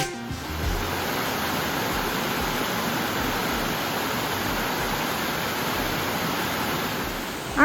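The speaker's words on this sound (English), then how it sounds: "Aren't waterfalls just so like relaxing, beautiful?" A waterfall on Hamilton Mountain, a dense, constant roar of falling water heard close up and unbroken, with no voices over it.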